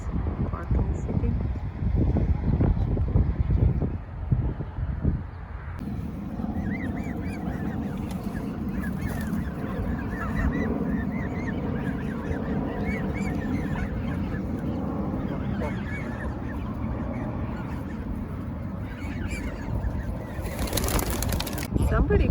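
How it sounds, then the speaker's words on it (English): Geese and other park birds honk and squabble while being fed at a city park, a steady busy clamour of calls with people talking over it throughout. "She's crazy about feeding these birds."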